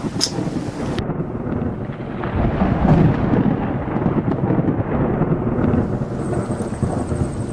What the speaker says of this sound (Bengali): বৃষ্টি এলো সঙ্গে এলো বাতাস আর একরাশ অন্ধকার